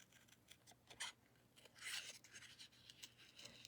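Scissors snip in short, quiet bursts while fussy cutting around a stamped seal image on paper, close and faint, with small rustles between cuts.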